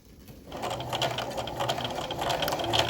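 Sewing machine stitching along the edge of a scrap-fabric catnip toy, starting after a brief quiet moment and then running in a fast, steady mechanical whir close by.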